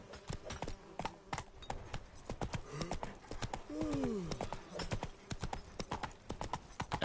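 Galloping horse in The Witcher 3 video game, a fast rhythmic clip-clop of hooves with a brief whinny partway through, moderately near.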